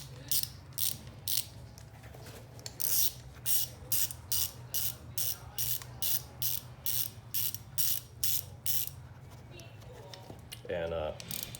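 A ratchet fitted with a 12-point 3/8 socket tightens a peg bolt on a Yamaha Bolt motorcycle, giving a rapid, regular series of close, loud clicking strokes that continues for about ten seconds before a brief metallic clink.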